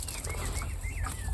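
Magpies chattering in a garden allotment, their harsh calls mixed with other bird sounds over steady outdoor background noise, fairly close and continuous.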